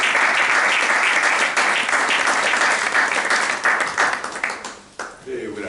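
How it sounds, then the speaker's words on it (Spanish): An audience at a book presentation applauds loudly and steadily, the clapping thinning out toward the end as it fades into scattered claps. "Y pido para ella un aplauso."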